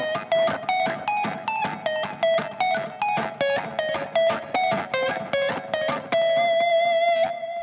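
An electric guitar with effects plays a quick, evenly spaced run of single picked notes from a lick, each attack sharp and close, ending on one longer sustained note, with no speech.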